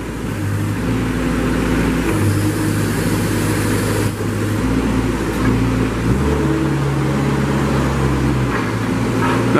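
A 2014 Moffett M55.4 truck-mounted forklift runs steadily up close while its outrigger hydraulics are worked, the engine note stepping in pitch as the hydraulic load changes.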